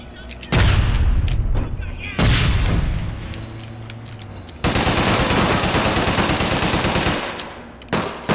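Loud, close automatic gunfire from the video game APB Reloaded rips out in several sustained bursts with heavy booming low end and brief gaps between volleys, the longest burst running several seconds.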